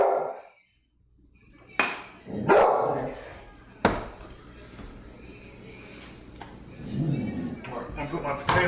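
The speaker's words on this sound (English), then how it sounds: "don't know what she's barking at." A dog in a home kitchen gives a few sharp barks and yips, close and loud, while someone talks around them.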